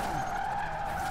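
A car in Forza Horizon 4 drifting at very high speed, driven with a wheel and pedals. A loud, continuous tire squeal with a strained tonal whine sustains throughout, with no talking.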